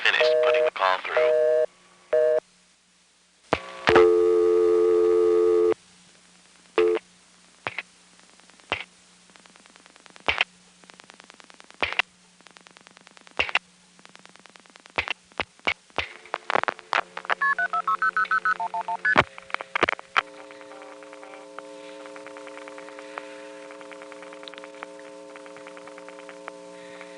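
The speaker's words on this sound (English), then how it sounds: "You'll hear the other NX1 pulsing out all the digits" An NX1 crossbar telephone exchange from Greenville, North Carolina in 1974 sends out dialed digits as bursts of tones and clicks, a steady hum underneath and a sustained tone toward the end.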